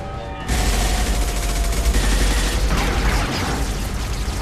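Heavy sustained gunfire in the Mass Effect 2 video game: dense automatic bursts and booming shots hammering continuously after a brief quieter opening, loud and close.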